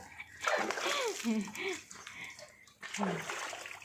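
Water splashes and sloshes while a dog is bathed and its tail is washed, with intermittent bursts of splashing under voices talking nearby.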